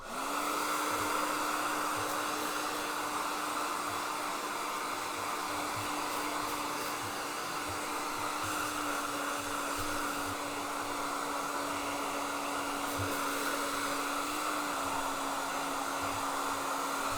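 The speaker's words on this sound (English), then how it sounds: "Finally, we will use a hair dryer to blow each of the sections." A hair dryer blows on an old wig on a wig block, a loud, steady whooshing drone with a constant motor hum that runs unbroken from start to finish.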